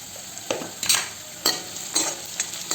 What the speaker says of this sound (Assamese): অলপমান লৰাই দিছোঁ পিঁয়াজখিনি ৰঙচুৱা হোৱালৈকে ল' ফ্লেমত